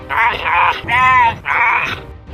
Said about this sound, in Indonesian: Puma yang kelihatannya pendiam dan tidak bisa mengaum juga punya suara yang unik